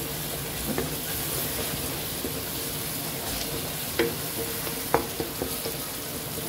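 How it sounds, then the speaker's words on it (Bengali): Cumin and spices are stirred in a frying pan over a constant low sizzle, with occasional sharp scrapes and taps of the spoon against the metal, close and unaccompanied by speech. "এবার অনবরত নাড়তে থাকবো যাতে লেগে না যায়।"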